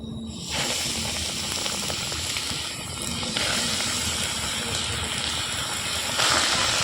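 Pieces of potato dough drop into hot oil in a small pan and fry with a steady, close hiss and bubbling crackle, the sizzle swelling slightly as more pieces go in.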